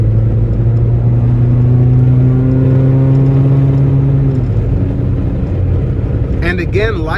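A 1989 Toyota MR2 with a 1.6-litre four-cylinder engine and 140K miles accelerates under load. Its steady droning engine note climbs for several seconds, then drops and settles lower near the middle.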